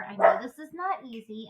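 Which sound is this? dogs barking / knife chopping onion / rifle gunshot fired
dogs barking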